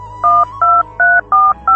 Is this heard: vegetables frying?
no